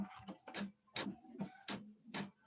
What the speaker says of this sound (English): I'm getting frustrated because of this printer.